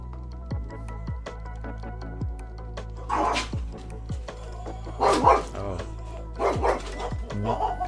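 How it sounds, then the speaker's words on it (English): Dogs bark at home in agitated bursts of several sharp barks each, close and fairly loud. The barking sits over a steady tonal background, and a voice can be heard talking. "I don't know what my dogs have heard, but they're very, very unhappy about something."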